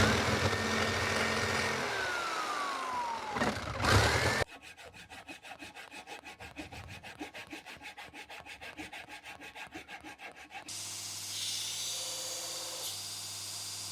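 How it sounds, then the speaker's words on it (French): Steady rhythmic rasping of a wooden knife handle being sanded, close and fairly loud, with a brief sharper power-tool burst before it and a smoother whir after. "il ponce le manche"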